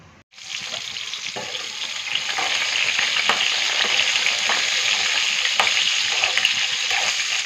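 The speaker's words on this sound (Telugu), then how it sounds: "కాకరకాయలు అనేది మంచిగా ఫ్రై అయినాయండి" Bitter gourds frying in hot oil in a home kitchen, a loud, continuous sizzle that starts abruptly and holds steady for several seconds with occasional crackles and pops.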